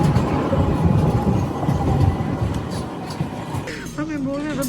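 An Istanbul metro train runs past with a steady, loud rumble that fills most of the moment, then fades as a voice begins speaking over the quieter tail end.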